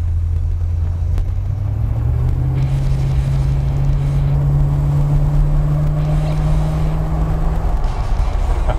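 A Lincoln Continental Mark IV's V8 engine, a Bill Blass edition, revs up from a deep steady rumble and holds a loud, sustained higher drone for several seconds before easing off, close and dominant.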